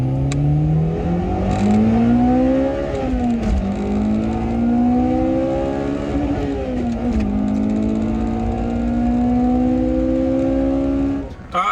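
A Honda Integra Type-R engine revs hard on a winding mountain touge road, its loud rising and falling whine climbing through the gears and dipping briefly between shifts, sustained and close throughout.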